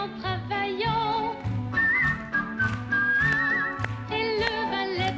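Sustained melodic whistling carries over a loud, steady musical backing with a rhythmic low beat, the tune wavering and sliding through several held notes.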